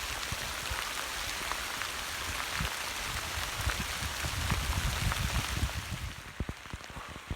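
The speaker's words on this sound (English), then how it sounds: "It's nice to hear the rain hitting on top of my foot up here." Heavy rain falls on a soaked hiking trail and patters on rain gear, a steady close hiss with sharp individual drops tapping nearby, easing slightly near the end.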